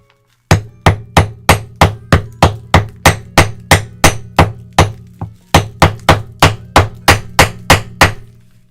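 A hammer repeatedly smashes at a hard rock to crack it open, about two dozen sharp, evenly paced close strikes with one short pause midway, no voices.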